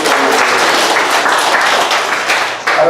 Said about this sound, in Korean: 박수로 우리 한번